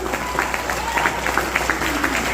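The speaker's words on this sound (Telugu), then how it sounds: "అట్లాంటి అప్లైన్ ఒకసారి జోరుగా క్లాప్స్ కొడదామా గట్టిగా?" Steady clapping from an audience at a motivational talk, a soft continuous patter of many hands carrying evenly at moderate distance.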